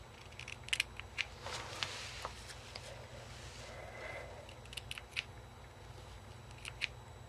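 Scissors snipping through hair brushed up backwards, a series of small crisp cuts scattered irregularly across the clip, close and quiet over a faint steady background hiss.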